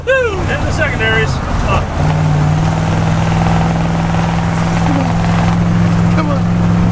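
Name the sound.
old camper engine accelerating at full throttle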